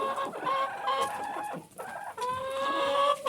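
Hens clucking in a farmyard, several birds calling at once in overlapping, continuous cackles that rise and fall, fairly close and moderately loud with no talk.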